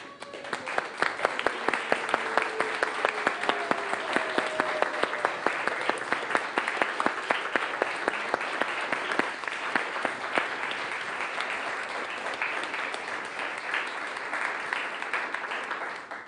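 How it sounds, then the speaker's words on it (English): Sustained applause from a standing church congregation honouring graduates, a dense, even wash of many hands clapping at close range that holds steady for the whole stretch. "I would like you to stand up and give them a standing ovation."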